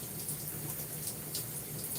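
Water running steadily from a tap while conditioner is rinsed out of natural hair during a twist set, a continuous close splashing hiss with no talk.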